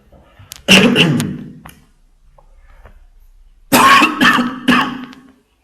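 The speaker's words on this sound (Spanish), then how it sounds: "Permítanme 2 segundos para toser" A person coughs in two bursts separated by a quiet pause, each burst several harsh, close coughs.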